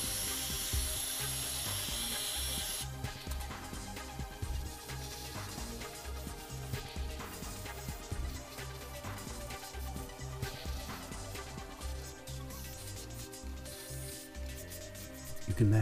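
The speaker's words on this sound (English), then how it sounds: "Keep alternating between applying hot air and paint." Hot air blower and airbrush at work while olive drab LifeColor paint goes onto a model tank: a loud, bright hiss for the first few seconds, then a steadier whirring, rushing noise with small clicks and rubbing sounds, no talking.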